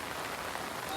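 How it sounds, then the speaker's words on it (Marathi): Heavy monsoon rain pours steadily at the foot of hills by flooded rice paddies, a dense, even hiss with no breaks across one second. "पाऊसही जाम चालाय भयानक, ऑखर गडून राहिलाय पाऊस"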